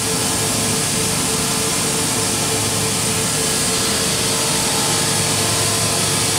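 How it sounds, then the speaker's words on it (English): A 1998 DMG Deckel Maho DMU70V five-axis vertical machining center, spindle at 9,000 RPM, swiveling and rotating its B and C axes: a steady, dense mechanical hum and hiss that stays even throughout with no talking. "The rotation and the swivel is very nice and quiet."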